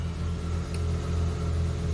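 A car engine idles with a steady low rumble, close and continuous for a couple of seconds, with no one talking.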